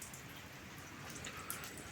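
Rain falls outside at a tram stop as a faint, steady wash of hiss with scattered drop patter, no voices.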